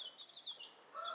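Faint, high chirps from young guinea fowl keets twitter briefly and repeatedly, thin and close.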